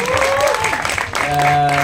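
A press audience at a film event applauds, with a dense burst of clapping that carries steadily through the whole moment while a sustained musical tone rings underneath.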